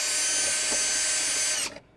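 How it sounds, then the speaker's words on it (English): A power drill runs steadily at high speed, enlarging holes drilled from the reverse side of a shell on a scattergun, then stops abruptly near the end, loud and close with no talk. "So what I'm going to do is drill them from the other side"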